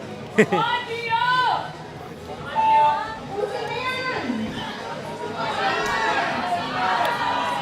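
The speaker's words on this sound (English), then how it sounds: "The crowd is cheering him on." A crowd cheers on a climber at the men's open qualifications of the 2023 Boulder Nationals in the Philippines, with rising shouts and whoops in several swelling bursts over a continuous murmur of voices.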